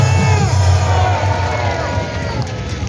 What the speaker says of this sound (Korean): 여러분 찬성하시면 큰 박수 한번 해주시기 바랍니다.